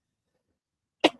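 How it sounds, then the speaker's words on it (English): After a second of near silence, a single short cough bursts out close to the microphone and quickly fades. "I don't know why I'm coughing."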